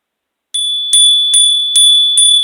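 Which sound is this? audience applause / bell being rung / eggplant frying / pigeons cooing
bell being rung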